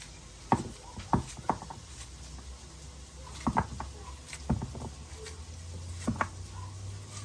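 Knife slicing peeled plantain on a board: a series of soft, close, irregular cuts in small clusters, faint over a quiet room hum.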